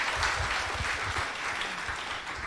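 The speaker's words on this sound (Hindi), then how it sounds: "इनके लिए ताली तो बजाइए।" An audience at an event applauds, a dense, steady wash of many hands clapping at once, loud and sustained for the whole stretch with no voices standing out.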